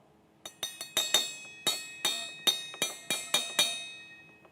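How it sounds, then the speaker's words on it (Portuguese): A stainless steel metal cup is struck about eleven times in a quick, uneven series, each hit ringing bright and metallic with a short decaying shimmer, close and clear, with no voices. "Vamos ouvir o copo de inox"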